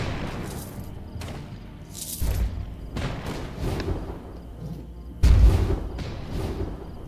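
Mortar tower firing in the VR tower-defense game Alchemist Defender, giving several deep booms spaced seconds apart, two of them heavier and louder, over a low background of game noise.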